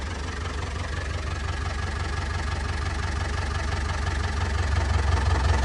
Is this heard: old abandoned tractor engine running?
yes